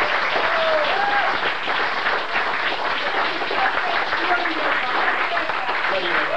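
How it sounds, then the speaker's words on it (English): A convention audience applauds volunteer stewards at a closing ceremony with dense, sustained clapping that fills the room from start to finish. A few voices are faintly mixed in. "everybody give them a round of applause"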